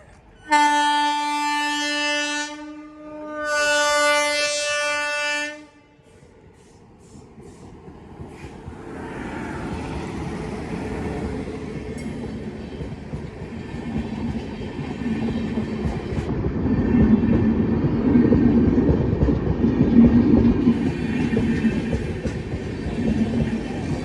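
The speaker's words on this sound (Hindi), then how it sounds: "शाहरुख भाई अपन काय का इंतजार कर रहे हैं ट्रेन का" A train sounds two long horn blasts, then rumbles and clatters past a station at Ujjain, building steadily louder and closer over about twenty seconds.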